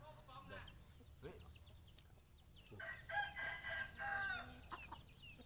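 A rooster crows loudly once, a long drawn-out call, after some scattered clucking and faint voices nearby.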